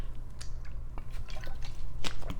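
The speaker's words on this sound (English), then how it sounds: "I'm just taking a water break." A person takes a drink of water during a pause, with close, wet sipping and swallowing sounds and small liquid squishes and no talk.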